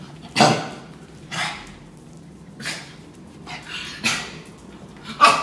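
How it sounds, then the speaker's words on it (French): A dog indoors giving several short barks and yips spaced a second or so apart, with soft whimpering between them, close and moderately loud, with no talk. "Il est vite perturbé ce chien quand même."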